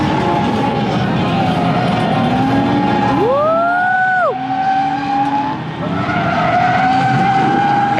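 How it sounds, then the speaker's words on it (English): Nissan 350Z drifting on a club circuit after a quick handbrake initiation: loud engine roar climbs, then sharp rising tire squeals cut in for about a second before the engine note carries on, close and intense. "here I'm going to try handbrake initiating into a faint clubhouse circuit"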